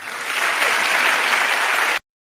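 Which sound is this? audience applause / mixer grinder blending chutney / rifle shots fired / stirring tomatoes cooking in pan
audience applause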